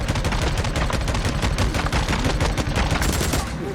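Rapid gunfire from the Days Gone video game, a dense, continuous stream of loud shots and impacts with no pauses, filling the whole stretch at close range.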